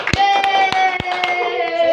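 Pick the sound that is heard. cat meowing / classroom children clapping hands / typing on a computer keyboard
classroom children clapping hands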